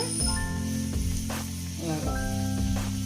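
Puris sizzle in hot oil, a steady frying hiss with bubbling bursts, while a person talks over it.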